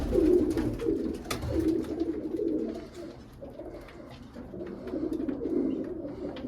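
Pigeons coo steadily inside a loft, a continuous overlapping murmur of low throaty calls close by, swelling and easing in waves with no talking.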